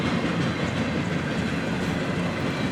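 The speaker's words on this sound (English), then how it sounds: "we see a southbound NS intermodal train led by NS 9496" A southbound Norfolk Southern intermodal freight train rolls by close, a steady loud rumble of wheels and cars with faint clatter throughout.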